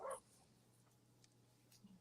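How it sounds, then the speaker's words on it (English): A dog gives a single short, yipping bark at the very start, fairly faint and indoors, followed by quiet room hum. "Sorry, my dog's barking."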